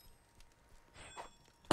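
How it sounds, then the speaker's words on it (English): A single sharp cough lands close on a microphone at the end, loud and abrupt after a few faint rustles and a soft murmur. "Just coughed into the mic."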